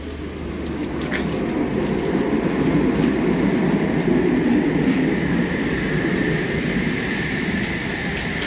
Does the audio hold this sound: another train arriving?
yes